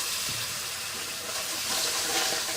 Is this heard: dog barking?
no